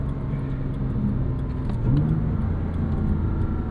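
A stock 3.4-liter car engine running with a steady low drone, swelling briefly as it picks up revs midway before settling again, heard from inside the car.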